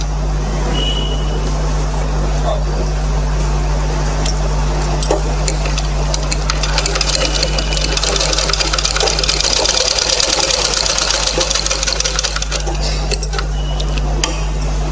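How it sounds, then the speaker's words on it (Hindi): Sewing machine stitching along a round garment neckline, running as a steady, loud mechanical whir with a constant hum throughout, and no one talking over it. "अभी हम इसके ऊपर हम सिलाई डाल देते हैं।"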